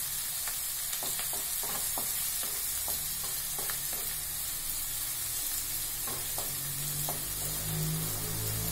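Onion fries in a pan with a steady sizzle throughout, punctuated by soft scraping clicks of stirring, close and continuous with no talk.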